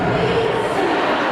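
Arena crowd at a women's college volleyball match between Washington and Arizona State, a loud, sustained roar of cheering and shouting that fills the space evenly without breaks.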